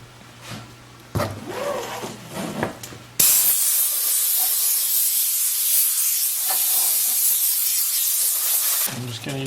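Compressed air blasts out the inside of a pheasant taxidermy habitat base, a loud sustained hiss lasting about six seconds after some faint handling sounds.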